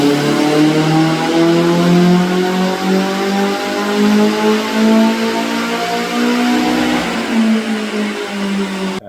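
Nissan SR20 engine in a Toyota KE70 drift car on the dyno, revving steadily and loudly for about nine seconds, a sustained mid-pitched drone with layered harmonics that rise and dip slightly, no talking.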